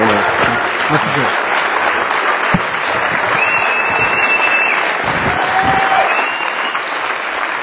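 An audience at a 2008 RMC speech event applauds loudly and steadily for several seconds, a dense wash of clapping with faint whistles and voices mixed in.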